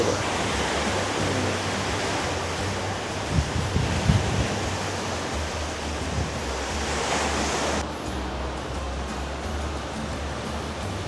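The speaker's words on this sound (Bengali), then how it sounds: "এখন আরেকটা ঢেউ আসতে পড়বে" Sea waves break on the shore at Jeddah, Saudi Arabia, in a loud, continuous roar of surf and wind, with a few bumps of nearby rumble partway through.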